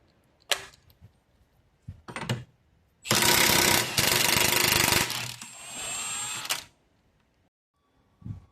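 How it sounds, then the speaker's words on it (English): Loud impact wrench on the 30mm 12-point rear axle center nut of a 2008 Toyota RAV4 4WD, one long hammering burst after several short taps, then a whining spin-down under a closer ratcheting rattle. "Next, the center nut comes off, and it's a 30mm 12th point."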